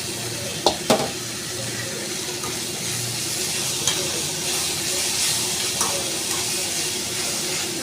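Sautéed mint goes into a hot pan for spicy idli chutney, an even, close sizzling hiss after a couple of sharp clatters at the start, with occasional faint utensil taps.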